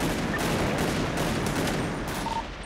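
Dense, continuous gunfire from a fusillade of overlapping shots during a shootout involving police, loud and sustained with no clear gaps across the whole stretch.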